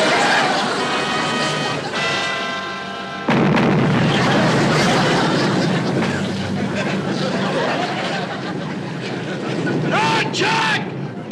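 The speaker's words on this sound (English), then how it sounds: "Hey, hit the deck! Here comes a torpedo!" A torpedo explosion effect in a TV comedy bursts in as a loud, rumbling blast that keeps roaring for several seconds, with shouting voices mixed through it.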